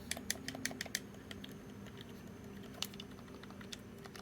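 Buttons on a PS4 DualShock 4 controller being pressed, a quick run of light plastic clicks followed by a few scattered single clicks, faint and close with no talk.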